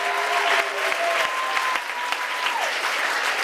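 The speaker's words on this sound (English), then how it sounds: "So let's give a nice round of applause there." An audience claps at an event where a champagne prize is awarded, a steady, close burst of dense applause that lasts the whole stretch, with a faint whistle-like tone running through it.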